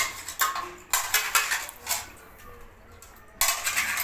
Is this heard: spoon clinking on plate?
yes